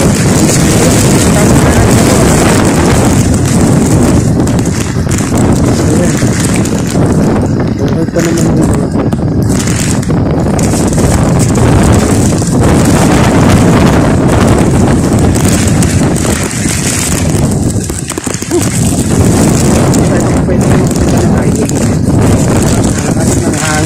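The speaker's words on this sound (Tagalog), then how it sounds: "So sobrang lakas ng hangin" Strong wind from Typhoon Ulysses (Vamco) roaring continuously, loud and close with heavy buffeting noise and gusts, a person talking underneath.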